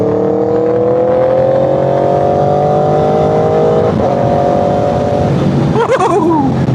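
An Aprilia RSV4 Factory motorcycle, a 200 hp superbike, accelerates hard toward a curve, its engine note climbing steadily in pitch, dipping briefly, then rising again, loud and close over constant wind roar, with a downshift near the end.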